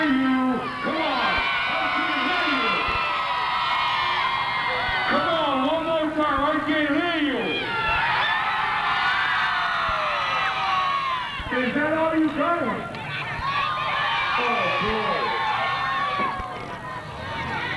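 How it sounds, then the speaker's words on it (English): A large crowd at a pro wrestling event cheers and shouts in loud waves, with whoops and scattered claps rising and falling throughout. "give one great round of applause for wrestling"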